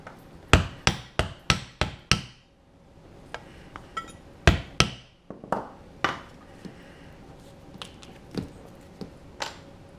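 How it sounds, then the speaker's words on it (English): Leather being punched for a rivet, a quick series of sharp, close knocks followed by scattered lighter taps and thuds. "we're going to punch a couple of holes for our rivet"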